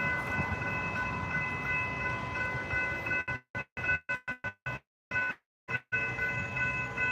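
A freight train rolls past at Jensen Beach with a continuous rumble and ringing crossing tones, then cuts into choppy dropouts partway through.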